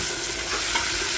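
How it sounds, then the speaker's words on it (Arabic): Garlic being stirred in a pan with meat and onions over low heat, a steady close scrape and sizzle of frying that carries on without a break. "هلا بنزل الثوم كمان بحركه"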